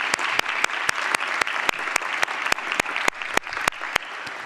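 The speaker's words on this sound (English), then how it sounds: "So, round of applause." An audience at an awards ceremony claps steadily, many hands in dense applause with a few sharp individual claps standing out, continuous and close.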